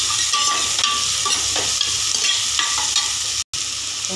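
Curry leaves sautéing in a pan for mutton curry give a steady, loud, dense sizzle with faint stirring scrapes throughout, broken only by a brief dropout near the end.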